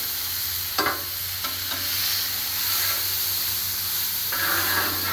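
Sirloin steak bites and vegetables fry in plenty of oil on a Blackstone griddle, a steady hissing sizzle with a few sharp spatula clacks and a brief burst of louder spitting near the end.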